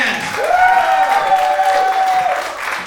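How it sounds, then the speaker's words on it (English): A comedy show crowd claps and cheers as a comedian is introduced, a broad wash of clapping with a single sustained whistle or shout rising above it near the middle. "Clap your hands."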